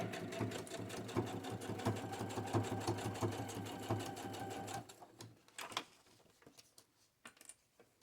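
A sewing machine stitching a fabric pocket: steady rapid mechanical whirring and needle clatter for about five seconds, then it stops and only faint handling clicks and rustles remain, close by and quiet, with no talking.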